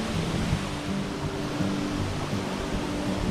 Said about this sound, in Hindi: सो दिस इज मुथायम धारा वाटरफॉल।